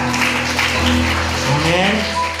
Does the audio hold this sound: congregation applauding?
yes